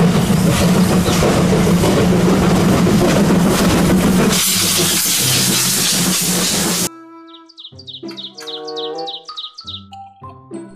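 A toy Thomas train lets out a long, loud, steady steam hiss, followed by a quick string of bright, chirping whistle-like tones and jingle notes.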